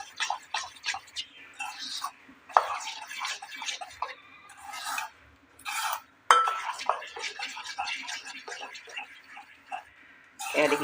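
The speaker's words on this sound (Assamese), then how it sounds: "এতিয়া ইয়াতেও মই চামুচ ইনৰি দিছোঁ। ভালদৰে মিলাই লৈছোঁ।" A spoon stirs pitha batter in a bowl, with quick clinking taps and scrapes in bursts. Soft speech runs under and between the stirring.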